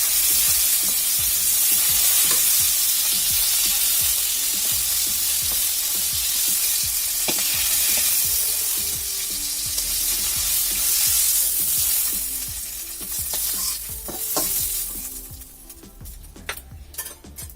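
Fish sizzles loudly as it fries in hot oil in a pan, a dense, steady crackle that thins out toward the end, where a utensil clinks and scrapes against the pan a few times.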